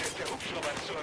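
Gunfire in the shooter game Battlefield 4, a dense run of rapid shots and crackling blasts filling the whole moment at a steady, moderate level with no clear gaps.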